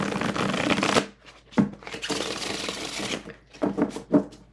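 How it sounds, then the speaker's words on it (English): A linen-finish tarot deck is riffle-shuffled up close, giving a long dense fluttering whir, then a softer bridge, then a few sharp taps and riffles at the end, with no one talking. "This is such an amazing shuffle."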